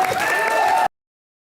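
Studio audience applause on a Hindi comedy show stage, a dense, steady burst of many hands clapping that cuts off abruptly after under a second.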